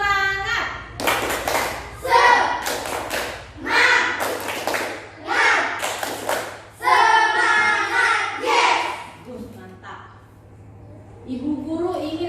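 Schoolchildren in a classroom performing the rhythmic 'tepuk semangat' clapping routine, bursts of group claps alternating with chanted children's voices, loud and close.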